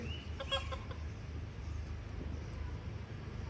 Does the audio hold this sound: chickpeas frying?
no